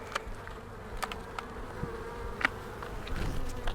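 Honey bees buzz steadily at close range on an open hive frame, a dense hum broken by short, sharper passes as individual bees fly near.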